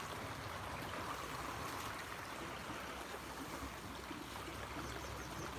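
Water flows steadily from a natural spring out of a hillside, a continuous close rushing trickle with no breaks, heard alone.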